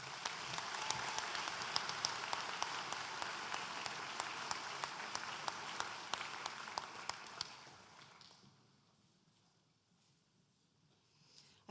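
Graduation ceremony audience applauding award recipients, a dense steady clapping crowd in a hall for about eight seconds before fading away to near silence.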